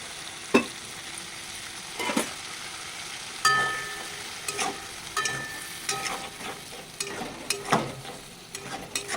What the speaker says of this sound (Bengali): সামান্য জল দিচ্ছি, জল দিয়ে একটু কষে নেব।